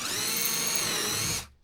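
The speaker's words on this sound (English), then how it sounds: "So I'm going to pre-drill this a bit more" A power drill bores a pilot hole into ash wood on a wood-and-canvas canoe build, running as one steady, loud whine for about a second and a half before winding down, with no talk.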